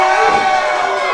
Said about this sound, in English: Definitely a mixed reaction from the crowd.